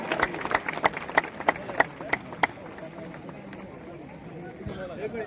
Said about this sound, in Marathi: प्रचंड टाळ्या वाजून आपण त्यांचं स्वागत करूया